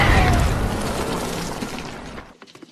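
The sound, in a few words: mortar shell explosion in a war film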